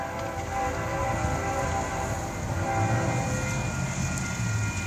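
Florida East Coast freight train 202 led by GE GEVO locomotives, heard rolling steadily with a sustained rumble and faint horn tones, moderately distant.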